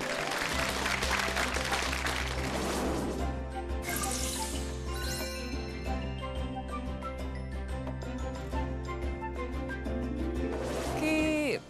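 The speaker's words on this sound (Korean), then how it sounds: "여러분 박수로 맞아주세요." Applause at a talk concert greets a bestselling author and coaching psychologist as she is welcomed on stage, with clapping heard under loud music that carries throughout.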